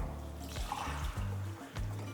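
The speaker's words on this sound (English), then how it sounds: "we're gonna do 1 cup of water" One cup of water pours steadily into arepa flour for Venezuelan arepas, a soft continuous trickle under a faint background hum, with brief low thumps and no talk.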